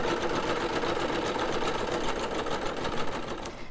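A Singer Superb EM200 embroidery machine stitches a design, its needle hammering in a fast, steady, loud rhythm that runs unbroken from start to finish.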